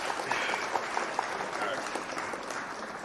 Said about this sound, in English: I'm gonna mute all you guys because the clapping is just too much.